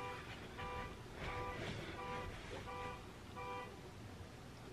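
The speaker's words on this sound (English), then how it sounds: "It's a rude car alarm." A car alarm blares outside in a repeating pattern of rhythmic tonal bursts, heard at a distance through a room at low level.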